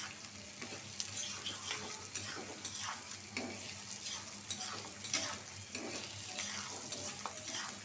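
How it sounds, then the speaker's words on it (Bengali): Onion and garlic fry in a pan with a steady soft sizzle, broken by repeated scraping stirs of a spatula, close and fairly quiet, with no talking. "পেঁয়াজটা ভাজা হোক।"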